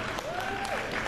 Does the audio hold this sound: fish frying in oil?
no